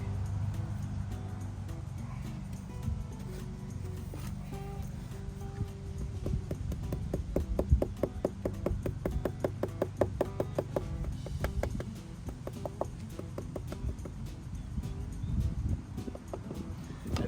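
Bricks are tapped into place on mortar while building a pizza oven, producing a series of soft, dull knocks in a loose rhythm, fairly close but low in level over faint background noise.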